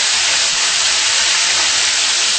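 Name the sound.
tomato poured into hot pan with garlic, sizzling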